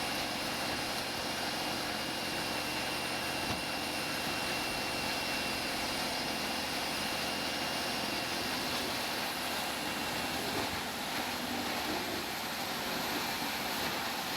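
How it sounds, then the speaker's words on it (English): A Vermeer HG6000 stump grinder runs continuously during wood recycling work, producing a dense, loud, unbroken mechanical roar that fills the whole stretch without pauses or speech. "The Vermeer HG6000 is an ideal solution for forestry operations, land clearing, and wood recycling projects"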